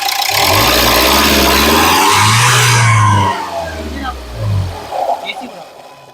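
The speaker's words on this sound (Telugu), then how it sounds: "ఇంజిన్ యొక్క నాయిస్ చాలా అంటే చాలా సైలెంట్గా అయితే ఉంది" Engine of a 2015 Renault Lodgy RXZ running, a loud low drone with rising revs in the first few seconds, then settling to a quieter idle with light clicks in the background.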